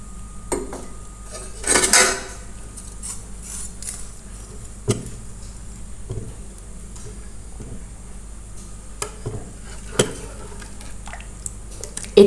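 Vermicelli (semai) added to hot milk in a pan for shahi lachha semai, with clinking metal utensil taps against the pan, a brief louder scraping burst early on, then sparse knocks close by, no talk.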